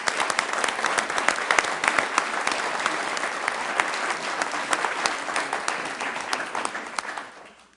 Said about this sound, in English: let's give them an even bigger round of applause